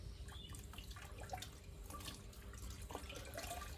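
Wet jute cloth, used to retain moisture for sprouting purple yam, is wrung out by hand, giving a steady close trickle and patter of water dripping and splashing below, with small squelches scattered throughout.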